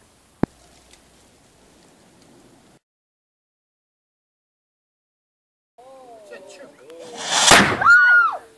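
A cannon fires at the Bloemendal cannon station: one sharp distant crack early on, then quiet, followed by people talking and a loud, close boom that rolls on as voices continue.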